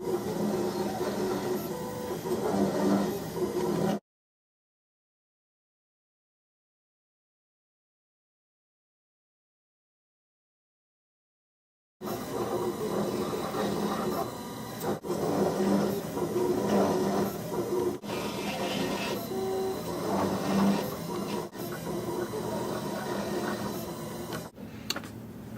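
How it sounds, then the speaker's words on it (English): A desktop CNC engraver cuts out a design, running with a steady mechanical whir and periodic ticking clicks, close and continuous apart from one long stretch of silence. "desktop engraver cut out your design. And this will take upwards of 20 minutes"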